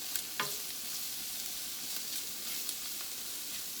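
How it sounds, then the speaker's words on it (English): Diced summer sausage cubes with cheddar sizzling in a hot pan, a steady close frying hiss with a few soft stirring scrapes and crackles, no voices. "We're gonna throw in our diced up, cubed up summer sausage with cheddar in it."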